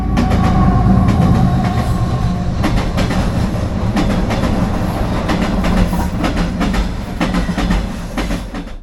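A passenger train on the Bishkek to Astana line in Central Asia rolls steadily along the tracks with a loud continuous rumble and repeated clickety-clack of the wheels over rail joints.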